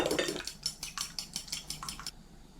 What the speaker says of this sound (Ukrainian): Змішаю яйця.